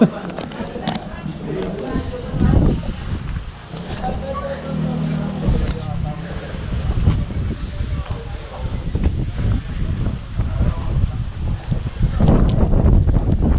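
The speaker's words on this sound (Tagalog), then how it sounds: "Umaaraw na pero malakas ang hangin dito sa" Strong wind buffets the microphone in a steady low roar at the Mt. Banahaw view deck, with someone talking over it throughout.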